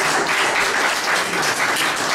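An audience applauds steadily and loudly for about two seconds, with dense, continuous clapping and no voices.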